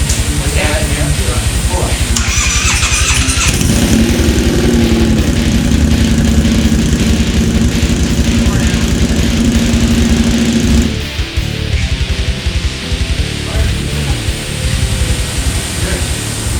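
A Harley Davidson XG 500 dirt/street tracker motorcycle engine runs loud and close in a continuous rumbling idle. It settles into a slightly lower, rougher note in the last few seconds.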